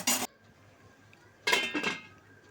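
A metal lid goes onto a cooking pot of boiling kharkol leaves in a home kitchen, with two sharp clanking contacts, one at the start and a longer rattling clatter later, close and fairly loud, with no talking.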